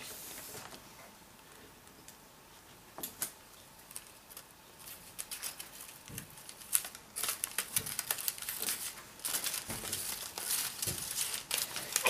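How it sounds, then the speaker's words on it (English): Paper strips being taped together for a 3D paper snowflake: soft crinkling, rustling and faint tape crackles, quiet and close, growing busier toward the end, with no voices. "Continue to flip the paper and tape the strips together until all the strips have been joined."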